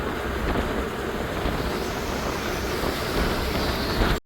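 Heavy rain and gusting, swirling wind in Jaffna make a loud, continuous broadband roar with rumbling buffeting against the microphone, steady for several seconds before cutting off abruptly.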